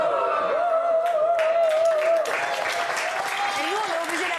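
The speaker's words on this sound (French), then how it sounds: "nous, on est obligé d'applaudir" Studio audience applause on a French talk show, sustained clapping with voices talking over it.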